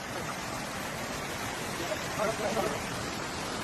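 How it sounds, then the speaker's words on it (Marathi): A stream flows along a forest path, a steady broadband rush of water that fills the whole clip close by, with no clear voices over it. "हा पावसाचा आवाज नाही, तर हा पर्याचा आवाज आहे"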